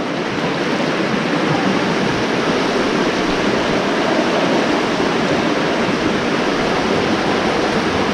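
Deep, swift creek water rushing through a narrow channel on a winter trout stream in southeast Kentucky, a dense, steady roar of flow close by with no breaks, no voices over it.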